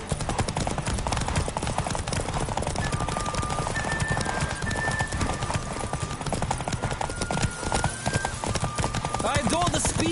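Rapid galloping hoofbeats of a horse in The Witcher 3: Wild Hunt pound steadily throughout, loud and close, with a horse's whinny and a busy tonal backdrop.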